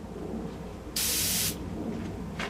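A single burst of spray from an old Iwata airbrush, a steady bright hiss lasting about half a second, then a faint brief puff near the end over quiet room noise.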